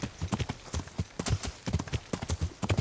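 Horse hooves clip-clopping in Kingdom Come: Deliverance, an overloaded horse walking at a steady uneven rhythm of close, distinct hoof strikes.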